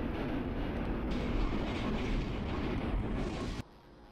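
A New York City subway train passing in the OpenBVE train simulator, a loud continuous rumble with clickety-clack that cuts off sharply near the end, followed by quieter ambience.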